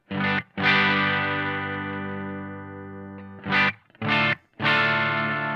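An electric guitar played through a Mad Professor Simble overdrive pedal at low gain rings out in lightly driven sustained chords, one long held strum followed by several short stabs with brief gaps, no talking.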